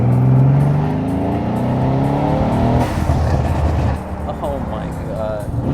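A BMW M3 F80 engine roars loudly at close range, its strained revving harmonics rising and falling, with sharp pops and crackles midway and excited voices talking over it.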